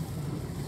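Steady rushing water noise from floodwater flowing across a road as the Amur river overflows, broad and continuous, with a low rumble underneath; no voices, close and fairly loud throughout.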